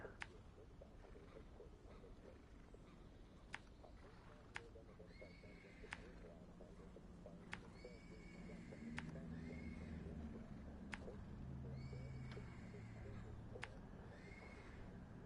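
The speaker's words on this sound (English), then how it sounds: "those horses do not sound happy at all" Horses in a video game neigh and whinny in several short, distressed calls, fairly faint over a steady ambient background, with occasional sharp clicks.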